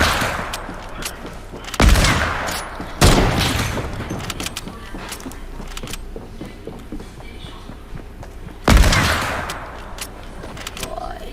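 Gunfire in a sniper-mode shooter video game, with three loud, sharp shots spaced across the stretch over a steady busy background of game noise and movement.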